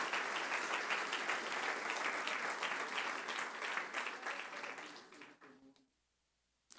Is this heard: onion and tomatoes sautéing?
no